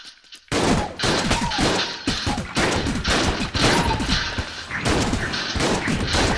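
Rapid bursts of gunfire from a bouncing-shot gun in the bullet-hell game Enter the Gungeon, loud rattling volleys that start after a brief quiet and continue through a corridor fight in dense overlapping bursts with short gaps.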